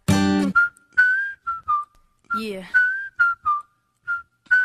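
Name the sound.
audience whistling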